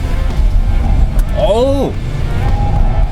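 A Kia K8 sedan on all-season tyres is driven hard through turns, its engine roaring as a steady, loud low rumble. A voice talks briefly over the engine noise partway through.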